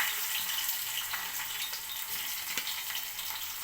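Oil sizzles and crackles steadily in a pan while garlic fries for the tempering of bisi bele bath, a close, continuous hiss with small pops.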